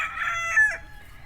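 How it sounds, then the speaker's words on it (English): A rooster on a small farm beside a busy road gives a single crow at moderate distance, clear above faint low background noise. "you will hear the occasional rooster crowing"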